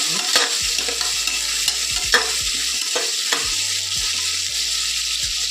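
Vegetables frying and being stirred in oil for a Karnataka-style vegetable white pulao, a steady close sizzle with scattered scraping stirs and low clunks of the pan, no talk.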